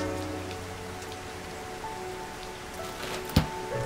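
Steady rain patters on a surface, soft and continuous, with a brief louder thump near the end.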